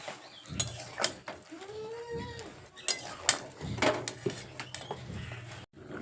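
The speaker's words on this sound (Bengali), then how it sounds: "এবার নেড়ে চেড়ে পাঁচ মিনিটের জন্য ঢাকা দিয়ে রান্না হতে দেব" Utensil clanks and scraping against a cooking pot while mixed winter vegetable curry is stirred and covered with a lid, several sharp metallic knocks and clinks spread through a quiet kitchen, close and moderately loud.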